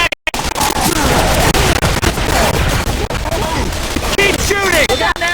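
Sustained heavy gunfire from Left 4 Dead 2 during a Tank fight, with dense overlapping shots and bursts rattling continuously at close range, while voices shout over the din.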